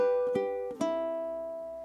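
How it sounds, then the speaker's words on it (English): A ukulele strums a single chord three times in quick succession, each strum bright and close, the last left to ring out alone and fade slowly. "play the strum of the chord for beat 1 instead"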